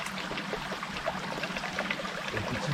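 A forest stream flows with a steady, close trickling and babbling of water, continuous and fairly loud with small splashy bursts throughout, no voices.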